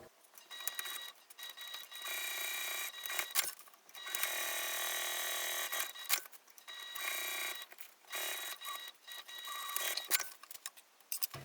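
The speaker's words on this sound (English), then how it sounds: "Mine looks good, so I'm going to go ahead and start sewing." A sewing machine stitches a clear jelly vinyl pouch in repeated bursts, a fast mechanical whirring that starts and stops several times with short pauses and light clicks between runs.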